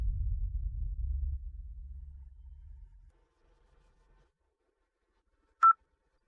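A single short keypad tone from a cellphone sounds near the end, sharp and clear after a low rumble fades into silence.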